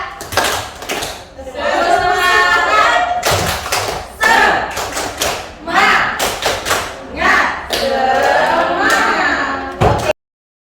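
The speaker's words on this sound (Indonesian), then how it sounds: "boleh gak Bapak Ibu tepuk semangat?" A workshop audience in Pematang Siantar does loud, rhythmic group clapping in quick patterned bursts, with voices chanting along throughout.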